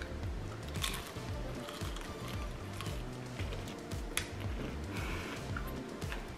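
Crisp-battered Korean fried chicken being bitten and chewed close up, with soft crunches and squishy chewing sounds repeating steadily.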